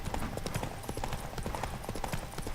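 A horse canters in a race in The Witcher 3, its hooves clip-clopping in a quick, steady rhythm close by for a few seconds.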